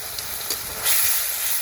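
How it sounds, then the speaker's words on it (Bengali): Spices fry and hiss in hot oil for a chicken and jackfruit curry, a steady close sizzle that swells partway through, with no talk. "ভালোভাবে কষিয়ে নেই মশলাটা"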